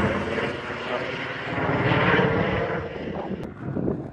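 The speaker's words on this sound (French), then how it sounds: "Alors, il est en train de tourner en rond l'hélicoptère là." A police helicopter circles overhead with a steady rotor and engine drone that swells and fades slightly as it passes, with people talking nearby.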